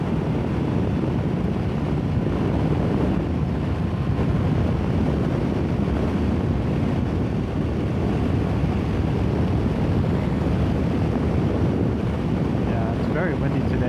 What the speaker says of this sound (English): Very windy today. I feel like the wind is going to really drown out my audio